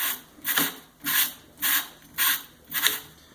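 Five rhythmic abrasive strokes of pipe ends being scrubbed clean of oxidation during pipe prep, each rasping pass evenly spaced about half a second apart, close and fairly loud with no talking.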